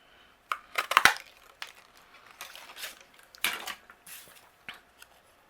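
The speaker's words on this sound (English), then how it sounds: "This is a 1 3/4 inch circle punch. And I'm going to cut out a circle here." A 1 3/4 inch circle punch pressed through cardstock for a floral card gives a few crunchy clacks and snaps close up, followed by rustling paper handling and lighter clicks, with no voice.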